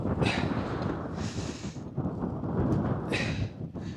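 Wind gusting hard outdoors while a Hilleberg Soulo tent is packed away, a loud rushing roar buffeting the microphone with surges of hissing gusts and faint rustling thumps.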